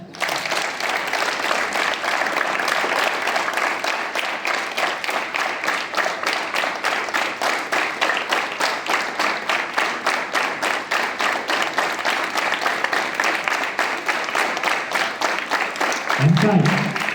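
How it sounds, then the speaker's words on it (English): Students clapping in unison at a school morning assembly, a long run of steady rhythmic claps from a large group, loud and continuous, ending with a brief spoken instruction. "Clap."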